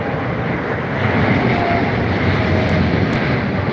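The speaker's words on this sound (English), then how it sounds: "Etihad Airways, right to the end of the runway." An Etihad Airways airliner takes off from a Heathrow runway, its jet engines a loud, broad, steady roar close by that holds for the whole stretch with no talk.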